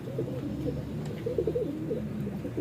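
Domestic pigeons coo softly and repeatedly at close range, low rolling calls overlapping in a steady murmur with faint background hiss.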